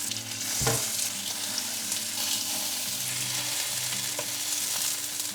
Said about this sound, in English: once the oil is nice and hot, I add my burgers